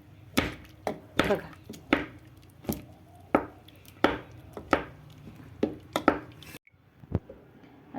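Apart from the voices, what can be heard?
mashing boiled potatoes for pav bhaji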